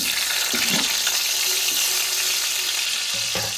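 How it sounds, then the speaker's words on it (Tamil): Large-cut onion pieces frying in oil in a kadai, a steady bright sizzle throughout with a few stirring clinks and scrapes, close and loud. "அதே கடாயில் வந்து எண்ணெய் ஊற்றினேன் கொஞ்சம் பெரிய பெரிய சைஸை கட் பண்ண வெங்காயம் ஒன்றே ஒன்று"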